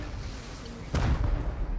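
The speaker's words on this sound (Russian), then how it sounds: "Это походу они взрывают, мне кажется." A deep boom erupts about halfway through over a low rumbling background, followed by a sustained heavy roar like a distant explosion, from a raid in the game Rust.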